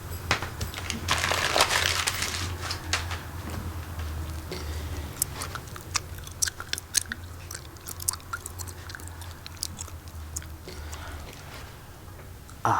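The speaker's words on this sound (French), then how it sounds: "Arrête de mâcher comme une vache." A person chews noisily right up close, with steady wet smacking and crunching bites through the whole stretch in an otherwise quiet room.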